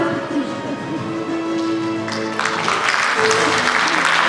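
Audience applause at a contest final in a hall, rising from a murmur into a dense, steady wash of clapping that grows louder toward the end, with tonal sounds and talk underneath.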